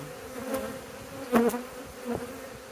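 Honey bees buzzing around a beehive in April, several close individual buzzes passing near amid a soft background hum of the colony.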